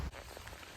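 Steady rain pouring down outdoors on a wet July day, a dense, even hiss with a low rumble underneath, continuous and fairly close, with no voices.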